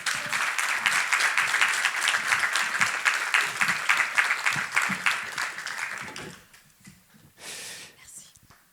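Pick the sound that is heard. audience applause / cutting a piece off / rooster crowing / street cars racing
audience applause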